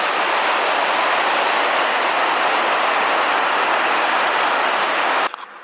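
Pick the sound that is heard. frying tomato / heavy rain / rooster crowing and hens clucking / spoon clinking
heavy rain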